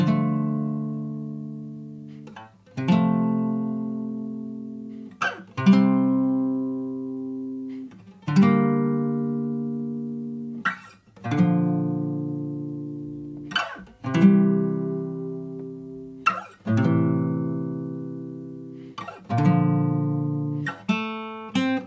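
Guitar in standard tuning playing the opening line of the Days Gone main theme, with slow, ringing plucked notes and harmonics, each decaying before the next, played alone and close.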